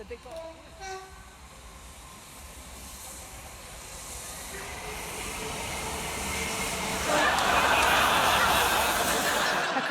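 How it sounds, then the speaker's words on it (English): The Flying Scotsman steam locomotive on its run to Devon approaches and passes, a rising hiss and rumble growing louder toward the end, with a brief horn-like tone early on. "get a picture of the Flying Scotsman on its first trip to Devon in more than 15 years"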